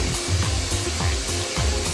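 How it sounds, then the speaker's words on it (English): Worker sandblasting a pair of jeans in a factory, firing about a kilo of sand at 4 bars of pressure: a loud, steady rushing hiss with a rhythmic low thumping pulse beneath it, alone with no voices. "A worker sprays a pair with about 1 kilo of sand at 4 bars of pressure."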